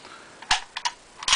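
An SKS rifle being taken apart: a few sharp metallic clicks and snaps as parts are pulled out, close and brief with short gaps between them.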